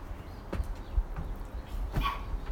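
Puppies barking and whimpering, heard as a few short yips and whines spread over a couple of seconds, fairly quiet against a low background rumble.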